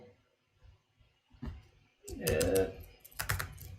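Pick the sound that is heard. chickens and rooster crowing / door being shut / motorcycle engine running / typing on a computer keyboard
typing on a computer keyboard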